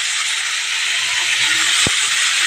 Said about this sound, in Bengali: এই যে ফুলকপিটা একটু ভেজে নিচ্ছি।